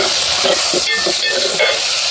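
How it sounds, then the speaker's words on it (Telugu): Onion, green chillies, tomato and curry leaves sizzle in hot oil on a stove for an egg curry tempering, a loud steady hiss with a few faint clinks of stirring. "ఉల్లిపాయ, 2 పచ్చిమిర్చి, 1 టమాటా, కరివేపాకు 4 రెబ్బలు వేసి తాలింపు వేసా"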